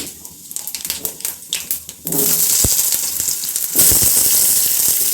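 Chopped potatoes drop into hot oil already holding whole bay leaves, dried chilli, cumin and cardamom for a daliya khichuri, bursting into a loud, steady close sizzle that swells further midway and keeps hissing to the end.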